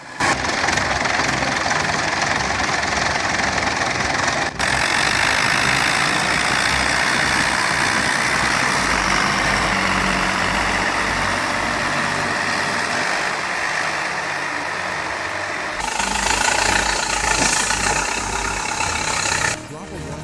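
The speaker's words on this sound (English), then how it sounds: "The IMT 577DV shows solid pulling power in snow, but without chains, traction drops fast" IMT 577DV tractor straining through snow, its diesel engine running loud and steady under a broad rumbling roar, with a brief cut and a harsher, brighter stretch near the end.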